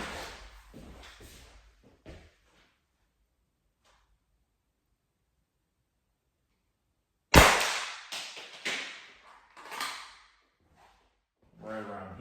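Shots from a Salt Supply salt gun fired at winter clothing: a sharp crack after a long silence, followed by spattering impacts and rustling, with a voice talking before and after.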